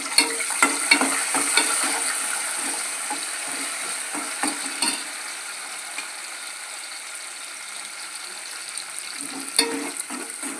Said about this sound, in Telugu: ఈ పోపు ఫ్రై అవుతూ ఉండగా గార్లిక్ దంచుకొని వేస్తున్నా.